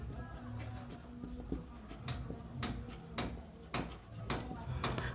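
An equation is written by hand, with soft pen or chalk strokes and repeated taps and scratches in an irregular rhythm against a faint room background, with no talking.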